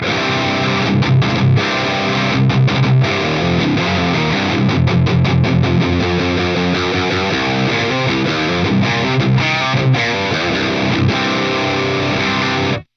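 Electric guitar played through an HX Stomp with mids raised and bass eased back, loud distorted chords and riffs ringing continuously with sharp rhythmic picking, alone until it cuts off.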